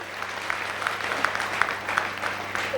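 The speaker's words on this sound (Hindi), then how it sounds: "तालियां हो जाए।" An audience at a Safe Shop diamond-rank recognition event breaks into applause, a steady patter of many hands clapping at moderate distance for a few seconds.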